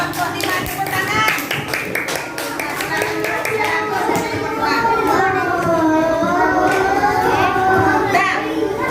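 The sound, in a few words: classroom applause for group 5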